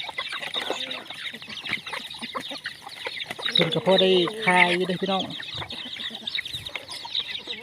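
Chickens and ducks cluck, squawk and quack nearby in a busy farmyard, a louder burst in the middle, while a person talks over them.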